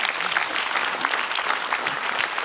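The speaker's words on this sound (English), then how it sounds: "One round of applause for Rana June and Josh Rubin." Audience applause at a convention session on emotion data, a dense, steady wash of many hands clapping at even loudness throughout, with no voices over it.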